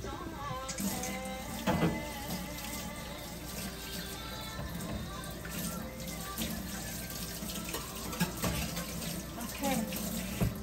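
Water runs from a kitchen tap for washing during Cambodian and Vietnamese home cooking, a steady close splashing stream with occasional clatter of items in the sink.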